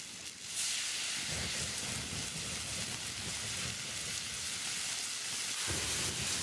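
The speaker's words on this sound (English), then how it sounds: "I flambé the slices with whiskey." Filet mignon slices flambéed with whiskey on a hot cooking stone, a loud, close, steady sizzling hiss like rushing steam that swells in bursts and continues without voices.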